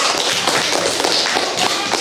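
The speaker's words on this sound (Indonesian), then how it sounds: "Tepuk tangan untuk kelompok 4." Students in a classroom applaud a group after its presentation, a loud, dense burst of many hands clapping close by that carries on throughout.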